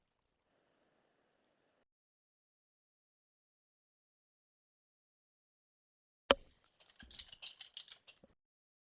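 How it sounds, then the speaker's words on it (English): Keyboard typing, a short burst of quick irregular clicks after a long silence, moderately close and not very loud. "I heard you typing though, Arnold."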